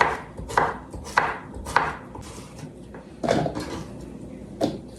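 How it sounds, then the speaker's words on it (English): A knife cuts cucumber chunks into pieces on a cutting board, producing about six distinct close thuds at an uneven, unhurried pace over a faint background hiss. "I'm just going to cut the chunk in half and then cut the pieces like this"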